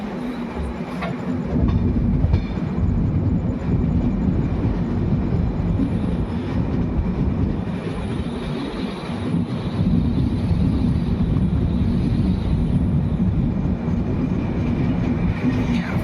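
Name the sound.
Indian Railways passenger train with WAP7 electric locomotive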